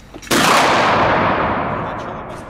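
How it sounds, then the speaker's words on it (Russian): A single loud shot from an FX Ranchero PCP air pistol fired into a chronograph, a sharp close crack followed by a long decaying echo in an enclosed space. "попробуем сейчас выстрелить в хронограф."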